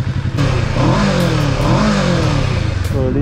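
A Kawasaki Ninja 650 motorcycle with its stock exhaust revs hard nearby, its engine note rising and falling through loud, rough throttle blips with some clatter, and no talking.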